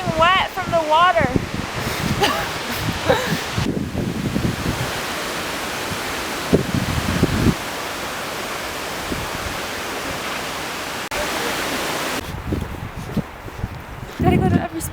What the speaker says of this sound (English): You could see this waterfall from the view we were just at